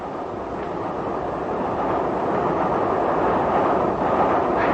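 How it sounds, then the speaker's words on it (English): A radio-drama sound effect of a train rushing through the night: a loud, continuous rumbling roar of rolling wagons that holds steady and swells slightly toward the end, with no voices. "even as our famous train rushes through the night"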